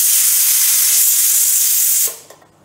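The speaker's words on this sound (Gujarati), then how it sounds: "હવે હું કુકર ખોલું છું" Steam rushes out hard as a pressure cooker of boiled vegetables is opened, a loud continuous hiss lasting about two seconds and then abruptly fading to near quiet with a small clink.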